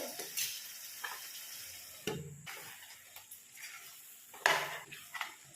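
Chicken with fenugreek leaves and mango cooks in a pan over medium heat, with a soft sizzle beneath scattered clinks and scrapes of a spoon stirring against the pan.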